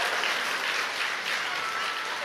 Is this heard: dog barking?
no